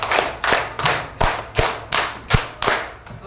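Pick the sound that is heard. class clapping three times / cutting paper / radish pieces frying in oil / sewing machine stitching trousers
class clapping three times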